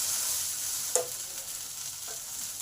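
Drumstick (moringa) stems fry in a pan for a sauce-style bharta, a steady soft sizzle with a couple of brief scrape-like stirring knocks near the start and end, close and alone without talk.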